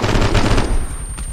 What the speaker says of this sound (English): What the fuck is shooting?